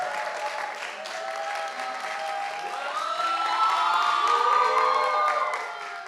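A congregation at a church young adults' worship service welcomes a preacher with applause, steady clapping under cheering and whoops, with sustained tonal music playing over it and the applause swelling slightly before easing off.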